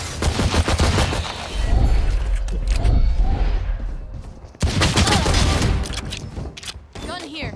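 Vandal rifle gunfire in Valorant, clusters of sharp shots in quick bursts at the start and again after a brief lull, with game effects and a voice talking over parts of it.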